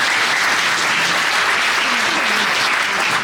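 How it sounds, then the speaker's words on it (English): Sustained, loud applause from a crowd at a Communist Party gathering after a cultural performance, a dense continuous wash of many hands clapping, with a faint voice briefly audible beneath. "Let's give him a round of applause."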